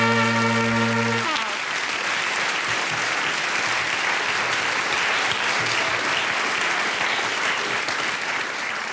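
A TV comedy studio audience bursts into loud, sustained applause as a cabaret performer and songwriter walks on, dense continuous clapping after a brief musical sting at the start.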